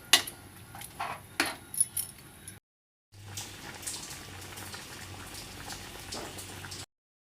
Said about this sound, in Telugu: ఆ వాటర్ దీంట్లో ఎసరుగా పోస్తున్నాను నేను